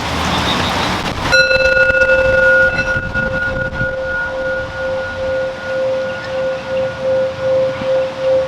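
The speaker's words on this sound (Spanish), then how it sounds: "Es obvio va a pasar el tren" A train horn blows a long, steady tone near a rail line, starting after a second of broadband rumble and then holding for several seconds before fading out under passing rolling noise.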